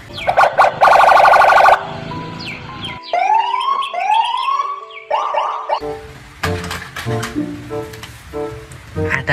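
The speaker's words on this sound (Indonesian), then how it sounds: "Wadidaw, mobil polisi." Toy police car siren wailing loudly in rising and falling electronic sweeps, with short bursts of beeping tones and toy sound effects, close and clear with no talk.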